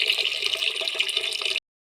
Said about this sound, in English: I'm going to put the water that I'm going to use, that it can boil as we prepare the ingredients